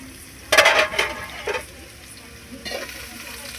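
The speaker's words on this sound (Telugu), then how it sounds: "ఇప్పుడు ఈ ఉల్లిపాయను బాగా మిక్స్ చేసుకోవాలి" Onions sizzling and frying in a pan while being stirred, with loud scraping stirs near the start and again later over a steady background sizzle.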